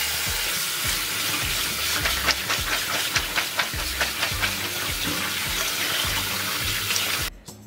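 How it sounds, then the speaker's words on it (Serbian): Beans rinsed under a stream of warm running tap water, a steady close splashing hiss with light knocks of beans and container throughout, ending abruptly. "sada nosim pasulj da je isperem pod mlazom tople vode"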